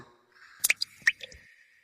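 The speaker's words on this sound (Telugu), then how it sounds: "బాత్రూంలో చిన్నగాలికి అవుతున్న వాటర్ సౌండ్ ఆ రూమ్ వాతావరణాన్ని కొంచెం భయంకరంగా మార్చింది" Water drips in a bathroom as a horror-story effect. A few sparse, isolated drips and soft squishy clicks sound close against near silence.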